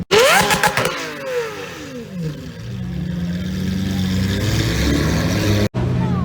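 A Porsche 918 supercar moves off with a loud engine note that sweeps up and then falls, heard among other revving exotic cars, including a Lamborghini Aventador, at a car meet. The roar settles into a steady drone before a brief cut.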